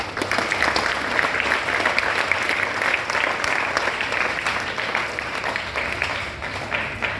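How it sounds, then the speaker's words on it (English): Steady, dense applause from a school audience at a sports closing ceremony and prize distribution for an under-14 boys cricket tournament, loud and continuous throughout with no speech over it. "Big round of applause for them."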